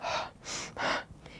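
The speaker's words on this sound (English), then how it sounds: "And we can tell if we're shallow breathing because we'll begin." Breaths demonstrating shallow breathing in a health and wellbeing setting: three quick, airy inhalations or exhalations in an even rhythm, close and clear with no talk.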